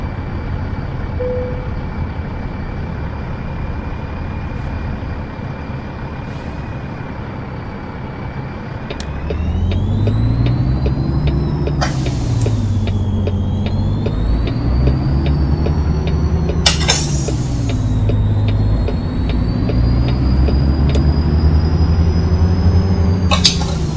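Truck engine in American Truck Simulator, a steady drone that rises and falls as the rig shifts through gears on the road, with a whining tone on top and louder revving in the second half.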